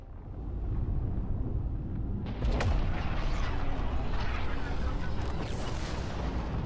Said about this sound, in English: barrage it with gunfire to disable its systems